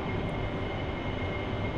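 Engine roar of an AV-8B Harrier jet taking off from the deck of the LHA-1 Tarawa carrier in DCS: a steady, loud, broadband jet rumble holds continuously with no breaks or talk.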